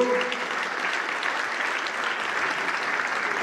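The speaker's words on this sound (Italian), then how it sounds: "vorrei tributare un applauso per essere tra di noi" An audience applauds a bishop at a public dialogue event: a dense, even wash of many hands clapping, steady and moderately loud throughout.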